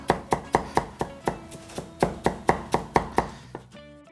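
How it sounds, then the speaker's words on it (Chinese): A cleaver chops Chinese yam rhythmically on a cutting board, about fifteen sharp, evenly spaced thuds, close and clear, with no talking. "拍破之后，我们简单给它剁一下"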